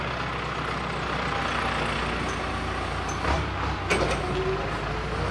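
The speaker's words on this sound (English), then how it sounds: "excuse the tractor as it goes past" A tractor drives past outdoors in a rural area, its engine giving a steady, loud rumble through the whole stretch, with a couple of heavier thuds and bumps near the end as it passes close by.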